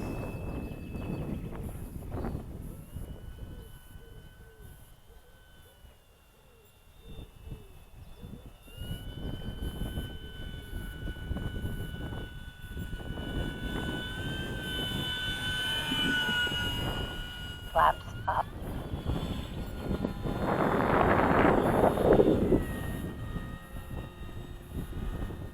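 An FMS 2000 Beaver model airplane makes a slow pass with its flaps partly down, its electric motor whine rising and falling as it nears and recedes, with wind rumble outdoors.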